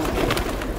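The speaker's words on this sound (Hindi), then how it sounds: "ये देखिए राकेश भाई इन कबूतरों को हाथ में ज़्यादा नहीं लेते हैं।" Pigeons of a fighter breed coo softly in a short, muffled burst, close by and heard alone over a dense background hiss.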